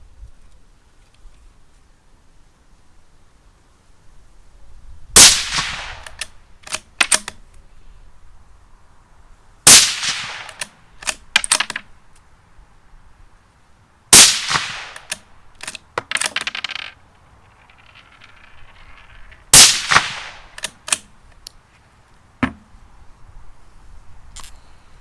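A CZ Brno 527 bolt-action rifle in .222 is fired several times outdoors, each shot a sharp crack followed by quieter clicks and clatter of the action, spaced a few seconds apart with quiet between.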